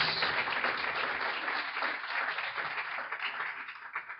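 A church congregation applauds in a steady, dense wash of clapping that holds for the full stretch, easing slightly toward the end, with no speech over it.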